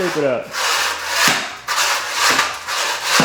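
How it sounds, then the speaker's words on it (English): Flooring glue being scraped off a floor during a house renovation, a series of rough, rasping strokes repeated in a steady rhythm, close and loud with no talk. "Right now, Ben is trying to get up all the glue"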